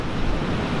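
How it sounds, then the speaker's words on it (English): Large ocean waves roll in against a rocky Oregon coast near Thor's Well, a steady broad surf roar with wind buffeting the microphone and no voices. "the waves are just ginormous out there, and they come in and they just go to nothing"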